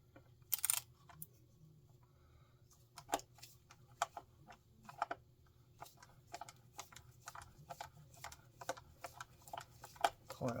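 A Phillips screwdriver works screws on a Fesley Super Strat electric guitar, giving a close series of sharp ticks and clicks in irregular bursts over a quiet background.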